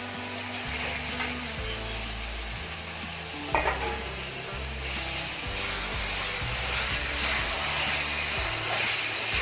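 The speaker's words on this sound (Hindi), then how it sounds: "देखो मसला ये अंडा और आलू मिसे जाना" Masala with egg and potato fries in a pan while a spoon stirs and scrapes through it steadily, a close, continuous sizzle with one sharper clink partway through.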